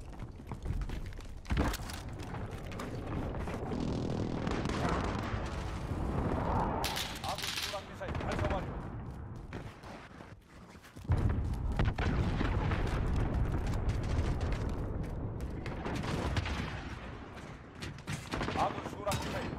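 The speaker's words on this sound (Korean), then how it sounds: "정밀 공습 개시." Explosions from a precision airstrike in Call of Duty: Modern Warfare ground combat, a dense, continuous barrage of booming blasts and gunfire-like bursts, loud and sustained with a sharp surge near the middle, under game voice radio chatter.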